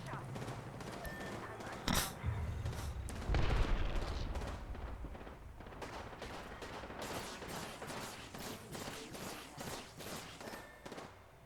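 A video game shootout, with a sharp crack, a louder burst, then a rapid string of distant-sounding shots rattling on steadily at low level.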